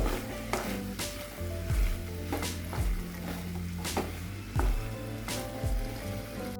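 Okra masala being stirred in a sizzling pan, a spoon scraping and knocking against the metal in repeated strokes over a constant frying hiss, with no talking.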